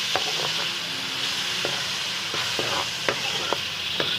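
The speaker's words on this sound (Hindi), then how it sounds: "अब इसको हम हल्का सा सॉफ्ट करेंगे प्याज को।" Chopped onion softens in a hot pan, a steady close sizzle broken by sharp scattered clicks and taps from stirring.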